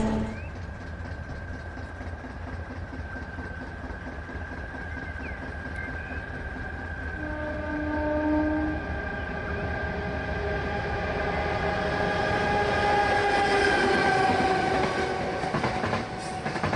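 A V200 507 diesel locomotive, nicknamed Taigatrommel, starting away with a heavy timber train, its engine throbbing steadily and rising in pitch and loudness as it pulls, with rail clatter underneath.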